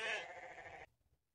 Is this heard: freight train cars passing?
no